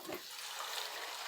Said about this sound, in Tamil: ஒரு 1/2 கப் அளவுக்கு தண்ணி ஊற்றி கழுவி சேர்த்துக்கலாம்.